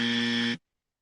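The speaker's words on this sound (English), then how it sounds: "And with that, hit the buzzer." Loud flat electronic buzzer held steady for about half a second, then cut off abruptly into silence.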